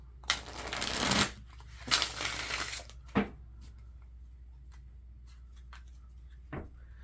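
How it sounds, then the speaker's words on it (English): Tarot cards from a Hush Tarot deck being shuffled: two long riffling bursts of about a second each, then a short snap and a faint later flick, close by with quiet room tone between. "if ever you get a little bit impatient with me with the shuffling, just go on ahead and fast forward until you see me laying down cards"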